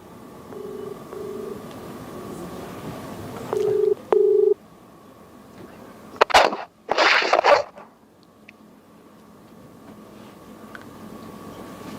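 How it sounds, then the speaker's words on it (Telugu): A few short electronic ringing tones sound over a phone line, then a couple of bursts of crackly noise and quiet line hiss. "రింగ్ అవుతుంది"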